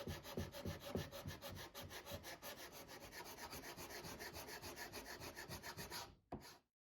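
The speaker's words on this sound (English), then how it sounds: "I also used my levelling beam here with some coarser sandpaper" Steady back-and-forth rasping of sandpaper on wood of a guitar build, rhythmic strokes close up for several seconds, then stopping abruptly.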